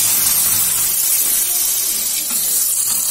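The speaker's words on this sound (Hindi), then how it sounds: "ऐसे छनाकदार आवाज आते हैं तो बहुत टेस्टी बनते हैं ये साग" Hot oil tempered with crackled cumin and chillies is poured over lafa saag gravy, giving a loud, continuous, hissing sizzle that holds steady for several seconds.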